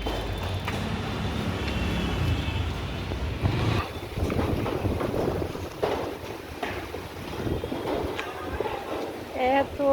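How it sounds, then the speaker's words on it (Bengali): Strong outdoor wind buffets the microphone in rumbling, gusting bursts, while people talk over the blustery noise throughout. "এখানে প্রচুর বাতাস হচ্ছে"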